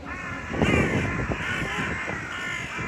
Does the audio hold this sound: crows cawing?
yes